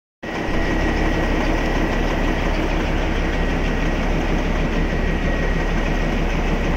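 The Darjeeling toy train on the hill railway from New Jalpaiguri runs with a loud, steady, continuous rumble and rattle of engine and carriages, close up and without a break, and no talking.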